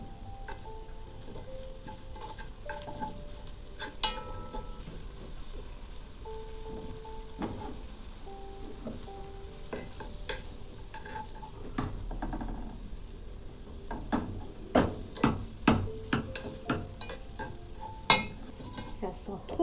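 Crushed spices added to well-browned onions fry over medium heat in a pan, giving a soft steady sizzle with occasional stirring scrapes and utensil clinks growing sharper toward the end.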